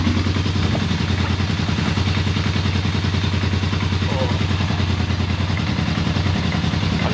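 A Yamaha XS750 motorcycle engine idling loud and close on carburettors with the gas tank removed, a steady rapid thumping pulse that keeps on throughout, alone without talk.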